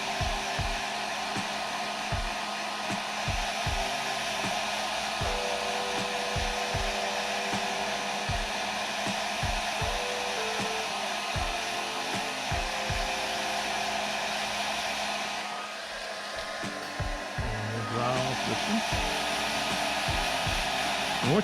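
Heat gun blowing a steady airy roar to dry paint coats on fishing lures at a custom lure spray session, running continuously with faint low thumps and a brief dip in the blower noise near the end.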